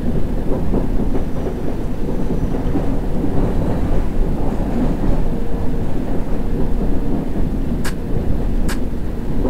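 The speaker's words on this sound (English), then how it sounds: "I love the sound of the train. Hear the brake applications and all." A subway train in the video game World of Subways runs with a steady, dense rumble throughout, and two brief high squeals from brake applications come near the end.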